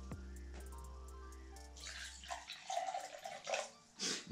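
Water is poured to mix with a sachet of royal energy honey. A low steady hum gives way to splashing and trickling pours in short bursts, close and fairly quiet, with no voices.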